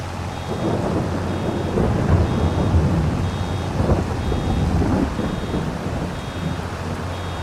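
Steady rain with low rolling thunder in Farming Simulator 22 during baling, a continuous wash of downpour and rumble with a faint repeating beep in the background.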